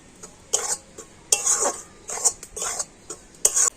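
Rice flour and wheat flour are dry-roasted in a pan and stirred. A spatula scrapes the metal surface in quick repeated strokes with short pauses between, close and clear, and no one speaks.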